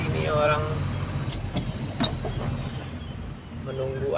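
A car delivering clean water to residents idles nearby on a flood-damaged road in Pasar Barong Melantai, its engine hum swelling at the start and end while people talk over it.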